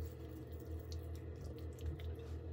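A tap runs steadily into a sink as skincare cleanser is rinsed off hands, a quiet continuous flow with faint splashes and a low hum underneath, no voices.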